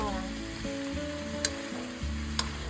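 Pumpkin (kalabasa) sautés in a pan with shrimp paste and ground meat, giving a steady close sizzle. A few faint clinks of stirring are heard, and no one speaks.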